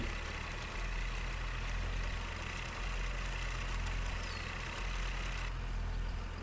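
A tractor idles in Farming Simulator 2015, giving a steady, low, throbbing engine drone with a faint mechanical rattle, even and unbroken apart from slight dips, quiet and without speech.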